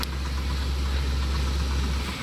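A tractor engine idles nearby with a steady low throbbing rumble, continuous and even throughout, no voices.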